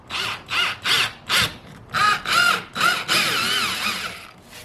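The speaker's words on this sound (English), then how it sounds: "Okay, let's make the first hole. This is with the 1-inch drill bit." A power drill with a 1-inch bit whirs in short repeated bursts while drilling a hole in a kayak, then runs in a longer continuous grind, loud and close.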